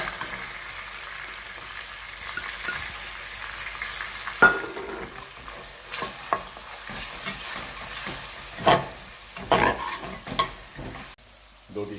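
Onions fry in reheated oil in a karahi, a steady close crackling sizzle with occasional louder stirring scrapes and clatters; no voices.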